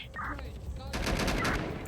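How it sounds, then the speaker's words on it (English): Gunfire in the video game Watch Dogs: Legion, a loud burst of rapid shots crackling through the second half after a quieter stretch of game noise. "Hear gunfire."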